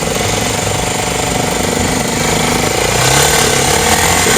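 A new Chinese motorbike engine at high altitude runs with a loud, rapid, rattling hammering beat, close and steady, rising slightly toward the end.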